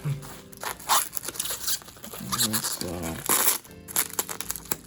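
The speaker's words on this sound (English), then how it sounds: "scissors are coming out to help me now" Plastic packaging crinkles and scissors snip in short bursts while a person talks.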